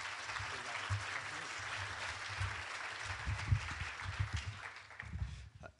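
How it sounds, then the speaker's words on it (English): Audience applause at a New England wind power conference session, a steady wash of many hands clapping that swells and then tapers off near the end, with faint low murmuring beneath. "please all give him a warm applause"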